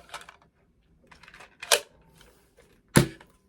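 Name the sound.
Nerf Fortnite Flare Gun blaster firing a shot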